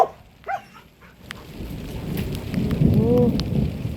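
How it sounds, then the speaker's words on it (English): Thunder rumbles through a rainstorm, building into a long, loud low roll over steady rain, with a couple of short yelps early on. "Oh, wait, there's another thunder."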